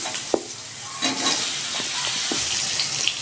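Small chopped eggplant pieces fry in a hot pan with a steady sizzle, broken by a few sharp scrapes and clicks of stirring, close and fairly loud with no talking.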